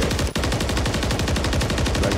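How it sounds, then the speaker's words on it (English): A full magazine of automatic gunfire is emptied into a wall in Call of Duty MW3, a loud, rapid, steady stream of shots that runs unbroken for over two seconds with no talk. "Just shoot this wall with a whole mag."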